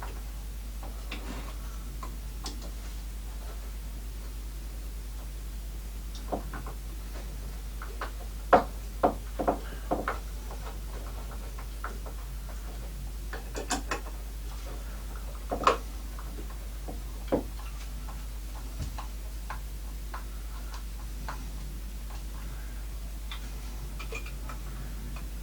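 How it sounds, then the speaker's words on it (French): Screws being driven by hand into a wooden joiner's jig, giving sparse, quiet ticks and light knocks that come in small clusters over a low steady hum, with no talking. "On va bien visser tout ça."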